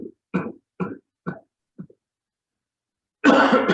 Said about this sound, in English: get to the end of your exhale and cough.